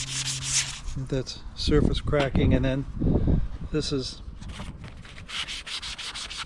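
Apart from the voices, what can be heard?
sanding steering wheel with 120 grit sandpaper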